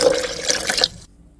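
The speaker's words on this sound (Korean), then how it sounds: "불려놓은 콩을 믹서기에 넣어주시고 정수물 500ml 부어줄게요." Purified water is poured into a blender holding soaked beans for soybean stew, making a short, close, steady splashing pour that stops abruptly after about a second.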